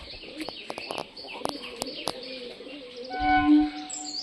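Scattered clicks and flutters, then a short, low cooing call from a white-winged pigeon near the end, in a quiet room.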